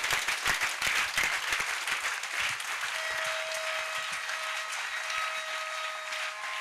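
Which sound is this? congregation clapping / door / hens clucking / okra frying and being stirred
congregation clapping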